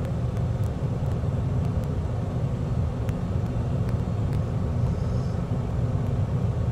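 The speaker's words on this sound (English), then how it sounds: "full flaps, throttling up so we don't stall" A simulated aircraft engine drones steadily while throttling up with full flaps on a landing approach in Microsoft Flight Simulator 2020, a constant loud low rumble with no breaks.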